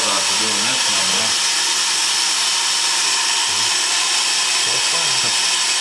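Steam blower on ATT&NW RR 801 during a fire-up: a steady, broad hiss that runs the whole time with little change, as people talk intermittently beneath it.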